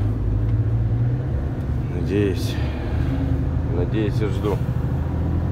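A car drives along with a steady low engine and road rumble and fan noise inside the cabin, while someone talks briefly over it.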